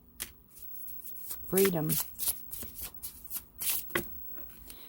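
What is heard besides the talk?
shuffling tarot cards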